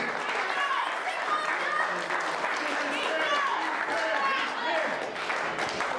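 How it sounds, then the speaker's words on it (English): A wrestling show crowd at a PWX anniversary event claps and cheers for itself, steady applause mixed with shouts and voices that rise and fall across the hall. "I want to hear you people give yourselves a round of applause for coming out here."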